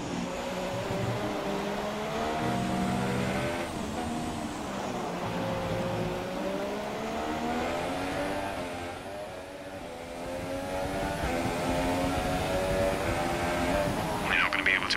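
A Formula 1 car engine in F1 2017 at the Singapore Grand Prix drones steadily at high revs, its pitch rising and falling with gear changes and throttle shifts, loud and continuous throughout.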